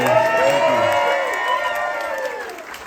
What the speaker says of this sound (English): Can we have a round of applause for the YWCA?